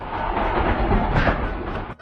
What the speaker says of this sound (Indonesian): Tak lama kereta ini melewati terowongan lagi.